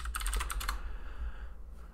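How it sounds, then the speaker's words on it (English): Fingers type on a computer keyboard at a terminal, a quick burst of several clattering keystrokes up close, then quiet room tone. "if I can type,"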